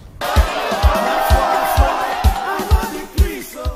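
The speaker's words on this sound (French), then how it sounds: "Des étudiants en colère, une foule difficile à maîtriser." A loud crowd of angry students shouts and chants together, with rhythmic thumping beats underneath the agitated clamor.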